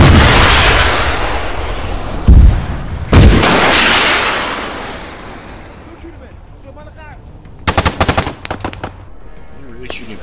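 Mortar fire in the video game Arma 3 lands as loud, booming blasts, with two heavy impacts close together. Later comes a rapid cluster of sharp reports, and voices talk over the sounds throughout.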